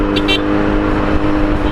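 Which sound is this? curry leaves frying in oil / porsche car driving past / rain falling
porsche car driving past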